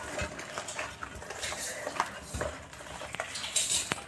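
Masala for chicken chilli being stirred in a pan at home, soft scraping and light clinks of a utensil against metal, close but quiet and irregular, with faint background noise.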